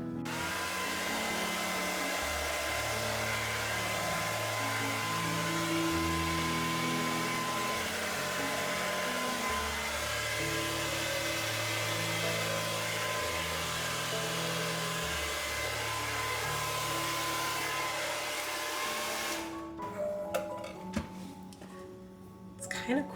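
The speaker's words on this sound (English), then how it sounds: "let's give it another go here with the dryer" A hair dryer blows steadily on an acrylic paint pour, a continuous broadband whir close by for about twenty seconds before it switches off, with voices talking over it in a room.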